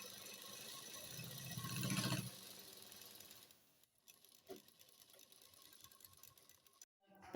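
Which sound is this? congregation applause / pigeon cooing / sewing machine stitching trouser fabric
sewing machine stitching trouser fabric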